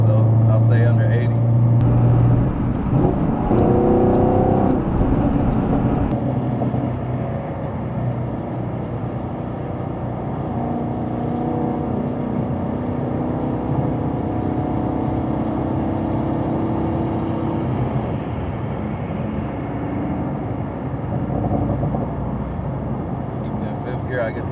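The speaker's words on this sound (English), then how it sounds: "Even in fifth gear, I get those backfires. It sounds so good to me." A 2020 Chevrolet Camaro SS 1LE V8 drives along curving roads, its loud engine drone steady throughout, with exhaust backfire pops suggested amid the run; someone talks over it, especially early on.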